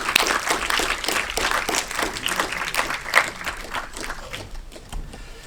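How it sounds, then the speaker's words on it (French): An audience applauds at a Paris film premiere for a kung fu world champion joining the host on stage, with dense sustained clapping that rises briefly and then thins toward the end. "je vous demande un plein d'applaudissements pour Kazé Calaver"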